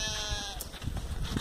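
A sheep bleats during vaccination on a farm, one wavering bleat that is close and clear, followed by shuffling and low farmyard noise.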